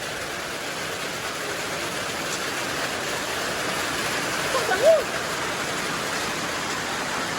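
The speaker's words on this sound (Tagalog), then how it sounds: "Ayan na, malakas ang ulan." Heavy rain pours down in the Philippine countryside in a dense, steady roar that fills the whole scene without letting up.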